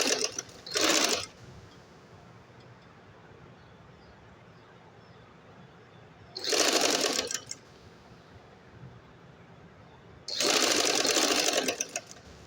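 Sewing machine stitching cord piping on a child's shirt and trouser set, running in three loud steady bursts, the last one longest, separated by quiet pauses with low room noise.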